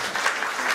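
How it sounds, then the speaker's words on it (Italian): A brief burst of audience applause at a commemorative talk, a dense wash of many hands clapping at once, steady and moderately loud for under a second. "Un applauso."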